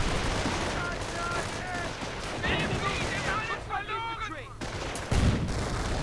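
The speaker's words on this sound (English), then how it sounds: "Riflemen getting sniped. Full guns getting sniped." Sniper shots and rifle fire crackle in a WWII-style strategy video game, with scattered pops and bursts of gunfire mixed with whistling and battle noise while a commentator talks over it.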